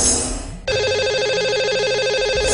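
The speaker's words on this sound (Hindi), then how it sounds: "तो चलिए इन्हें अब हम लगाएंगे कॉल।" A telephone ring tone sounds as a call is placed to a caller on a live radio show, a steady repeating electronic ring that starts after a brief noisy lead-in and runs on alone.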